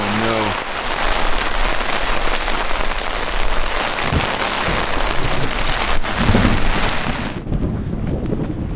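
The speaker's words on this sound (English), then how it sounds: "If I can just get a good lull in the storm, I will make a run for the cabin." Heavy storm rain pours steadily onto a tent in a continuous dense roar, with gusts and a faint rumble of thunder behind it, lasting throughout before the sound cuts off near the end.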